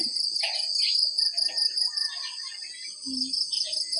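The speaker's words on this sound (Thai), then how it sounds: "มาฟังเสียง กบเสียงเขียดห้องด้วยนะมีเสียงกบเสียงเขียดมันร้อง" A dense night chorus of frogs and insects, steady and shrill, with scattered croaks rising through it and a brief lower croak near the end.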